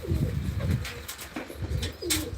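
Pigeons coo at a home-loft pigeon-flying contest, a steady murmur of low, throaty calls from several birds close by, with a few brief high chirps and no talk.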